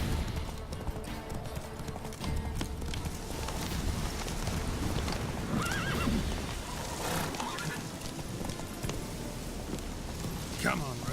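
Hooves of the horse Roach clip-clop at a gallop in The Witcher 3, a steady rhythmic beat under ambient game wind, with a whinny and spoken lines over it.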